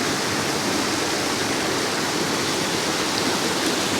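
A steady, even rush of water, like small cascades tumbling in the Bistrica stream near Preddvor, with no voices.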